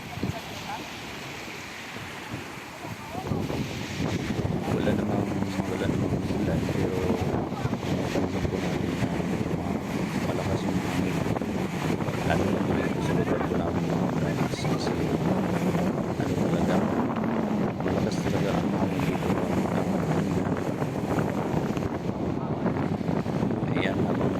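Strong wind rumbles and buffets the microphone aboard a small fishing boat at sea, a constant loud roar mixed with water and waves that runs almost without a break, while someone talks now and then.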